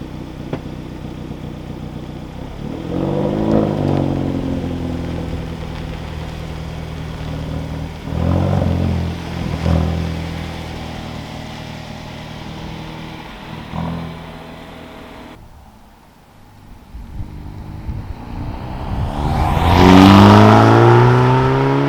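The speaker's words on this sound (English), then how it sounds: "I think it's time to go out for a drive and see what it's actually like on the roads." A Hyundai i30N hot hatchback driving on the road, its engine note swelling with repeated accelerations and gear changes, ending in a loud, rising rev near the close; no talk over it.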